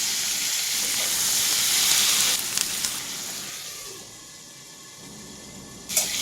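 Potato and cauliflower sizzle steadily in hot oil in a pan, a loud continuous frying hiss that eases partway through, with a few clinks of stirring and no talk.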